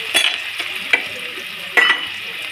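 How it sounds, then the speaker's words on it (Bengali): Onions frying in oil with whole cardamom and cloves, a steady close sizzle broken by a few sharper stirring scrapes. "অল্প পেঁয়াজটা দিলাম ভাজা"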